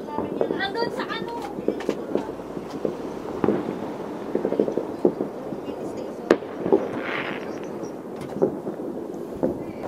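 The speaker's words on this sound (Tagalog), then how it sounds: "yung fireworks nila dito hindi kasing bongga nung fireworks natin sa Pilipinas" New Year fireworks in Finland pop and crackle in scattered bursts at a moderate distance, sharp bangs mixed with fizzing crackle, while people talk and celebrate in the foreground.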